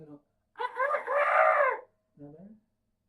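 A person imitates a rooster's crow, a drawn-out cock-a-doodle-doo in a rising and falling voice, flanked by short bits of speech.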